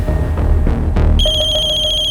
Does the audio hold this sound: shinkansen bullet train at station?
no